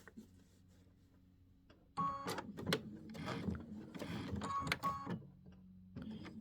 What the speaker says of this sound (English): I'm just sewing right through the tape because I can just pull the tape off.